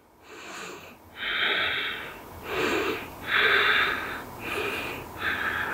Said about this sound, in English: For two deep breaths.